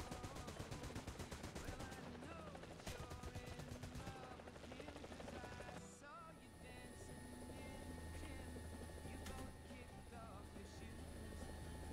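Helicopter cannon fire in a video game: rapid, heavy automatic bursts over a constant loud rotor drone, with the firing dropping away midway as the rotor and engine whine carry on alone.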